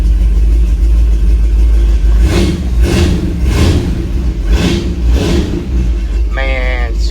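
A farm truck engine idles with a low steady rumble, then revs in four or five rising surges before settling back, loud and close.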